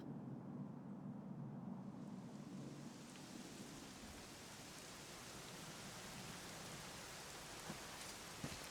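Steady rain in Dragon Quest XI S pours down in a dense, even hiss, with a low rumble early on that fades into continuous downpour.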